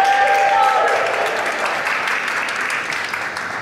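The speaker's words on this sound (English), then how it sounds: "Clap for yourselves." Crowd applause at an outdoor justice rally at the Minnesota State Capitol, a broad wash of clapping that starts loud and slowly fades, with a loudspeaker voice briefly heard at the start.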